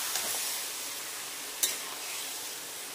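Onion paste masala sautés in a pan, a steady close sizzle with a single sharp stirring scrape partway through.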